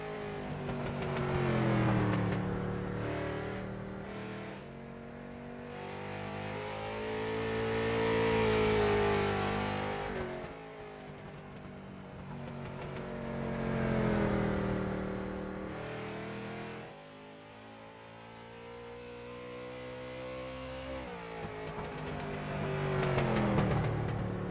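A street stock race car engine in iRacing at Stafford Speedway drones steadily for the whole stretch, its pitch rising and falling as it revs up and backs off through each lap, loud and close with no talk.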